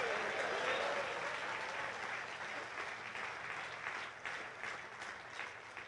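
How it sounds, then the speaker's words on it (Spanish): A church congregation applauds steadily during a service, a dense wash of clapping that slowly fades a little over several seconds. "Denle fuerte palmas al Señor en esta noche."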